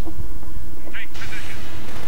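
Strike rifle fire in the shooter game The Conduit, a loud burst of booming gunfire with sharp crackling blasts over heavy low rumble, spread across a couple of seconds.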